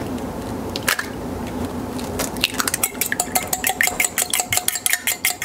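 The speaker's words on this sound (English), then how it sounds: "we're going to beat up 2 eggs" Two eggs are beaten in a bowl with a whisk or fork, a quick run of rhythmic clicking taps against the dish that speeds up and grows louder after a quieter start.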